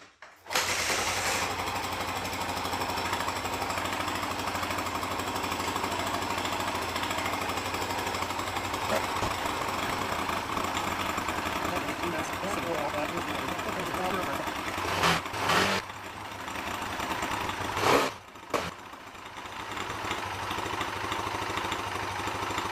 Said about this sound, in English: I'm gonna start up the bike.